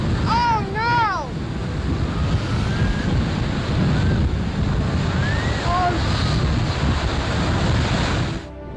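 Strong ocean waves surge around a ship at sea in a severe storm, with a continuous loud roar of surf and wind buffeting the microphone, broken by a few faint whistling or creaking tones.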